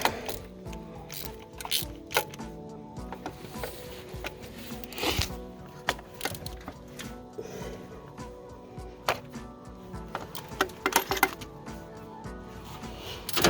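A ratchet loosens a spark plug on a Toyota Tacoma 3.4L engine, clicking in short rapid bursts between pauses, close and moderately quiet, mixed with light tool handling clatter.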